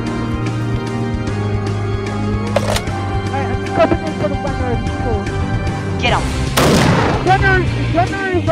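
Video game gunfire from mercenaries on an island, with repeated sharp shots and a heavier burst near the end over constant game background noise, while a player talks throughout.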